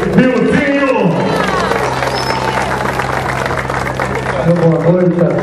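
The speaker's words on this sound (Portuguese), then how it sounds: "salva de palmas" Crowd applause and cheering greet a mayor at a public square inauguration, a broad wash of clapping and voices over steady low music, loud and sustained throughout.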